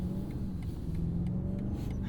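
A 2023 BMW 760i xDrive, a heavy 500-horsepower sedan, accelerates with a steady, low, smooth engine rumble from inside the car for about two seconds.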